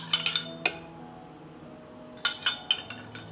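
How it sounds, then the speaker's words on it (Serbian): Metal spoon of lemon juice tapping against glass jars, a quick cluster of bright clinks, a pause, then another run of light chinks fading out, close and alone. "I u svaku teglu ću sipati po jednu stupenu kašiku limunovog soka."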